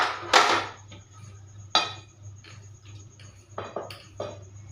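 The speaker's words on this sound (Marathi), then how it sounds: "भांडे घासायचे आता" Dishes, pots and pans handled and scrubbed after dinner at home, with sharp metallic clanks and clinks in scattered bursts over a low steady hum, close and fairly loud, no talking.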